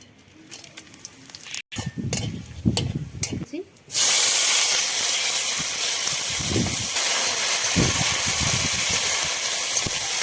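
Bay leaves, dried chilli, cumin, cloves, cardamom and cinnamon hit a little hot oil in a kadai, bursting into a loud, steady sizzle and hiss that runs on after quieter handling sounds at the start.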